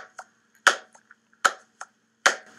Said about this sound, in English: I'll drag this over so that my hand claps sync up again